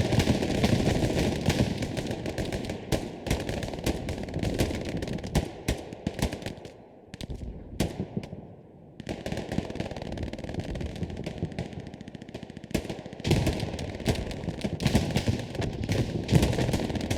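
Heavy battlefield gunfire in a Hell Let Loose match: a continuous clatter of sharp rifle and machine-gun shots at close and middle distance, thinning out briefly mid-way before the steady crackle returns.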